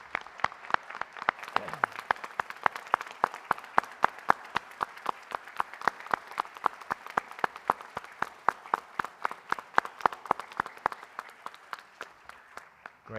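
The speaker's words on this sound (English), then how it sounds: "this round of applause is for you." An audience claps steadily for over ten seconds, a dense, even patter of many hands at moderate volume.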